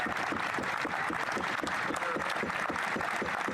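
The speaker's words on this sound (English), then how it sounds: "Pierre gets some clapping." Applause breaks out for Pierre in the House of Commons: many hands clapping in a dense, steady patter that holds at moderate loudness for the whole stretch.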